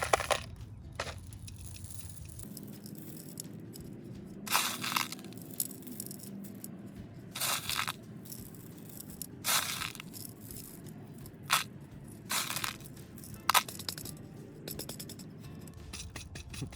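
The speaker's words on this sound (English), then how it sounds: "I use pea gravel or rocks to decorate my plants." Pea gravel is poured and settles around a potted cactus, giving scattered gritty rattles and crunchy pebble clatters in short irregular bursts over a quiet background, with no talking.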